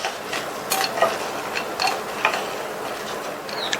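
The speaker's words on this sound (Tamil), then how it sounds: "நல்லா வாசனை வர வரையும் வறுத்துக்கங்க. தீயை வந்து மிதமாக வச்சு வறுத்துக்கங்க." Whole spices roast in oil in a pan over medium heat, a gentle close sizzle with quick rhythmic scrapes and ticking taps of a spatula against the metal, no voices.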